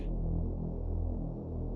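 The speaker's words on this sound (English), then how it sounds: "I'm going to put the mix all the way up and just listen to what only the chorus sounds like" A glide saw bass in the Serum synthesizer, heard with only its chorus effect, holds a dense buzzing low drone with a gently wavering, swirling texture, loud and continuous.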